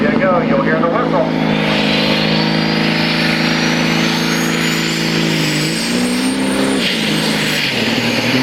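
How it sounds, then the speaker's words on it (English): A heavy semi truck engine roars loudly at a truck pulling event while a thin turbo whistle rises steadily in pitch above it as the turbos spool up, with voices mixed into the din. "It takes a little more time to get those turbos spooled up to catch up with the engine RPM."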